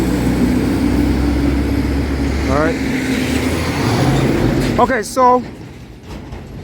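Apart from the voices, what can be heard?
loud trucks passing on Old Western Road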